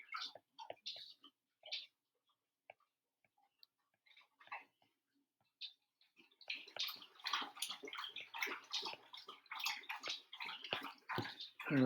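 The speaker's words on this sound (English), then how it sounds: "but that's my dog drinking his water out of his bowl." A dog lapping water from its bowl indoors, a quiet run of rapid wet licks and splashes that grows steady and fairly close after a few faint, scattered sounds.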